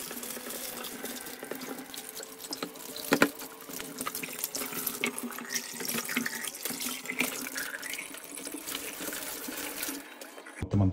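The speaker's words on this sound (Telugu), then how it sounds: "ఓపెన్ చేసుకున్న చికెన్ని మనం బాగా నీట్గా వాష్ చేసుకుందాం ఫస్ట్." Tap water runs steadily into a kitchen sink while raw chicken pieces are rinsed and turned by hand, a continuous splashing wash with a brief louder knock partway through and a clatter at the end.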